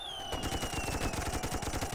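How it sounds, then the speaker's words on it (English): Massed machine guns firing in the World War I tower-defense game Toy Soldiers HD, a dense, fast continuous rattle of overlapping bursts, with a whistling tone fading over the top. "I think we'll just put a bunch of machine guns."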